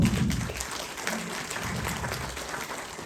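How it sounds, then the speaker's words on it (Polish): An audience in Wschowa applauds at a 2022 concert event, a full, steady wash of clapping from the crowd. "serdecznie brawo"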